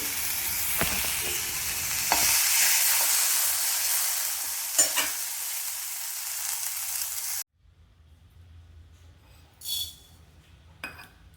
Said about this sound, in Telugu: టొమాటో కరివేపాకు కూడా వేసి వేయించుకోవాలండి